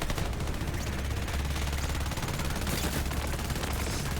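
A weapon called the No PP firing in a video game, with rapid, continuous gunfire whose sharp shots run back to back and fairly loud for the whole stretch, with no talking.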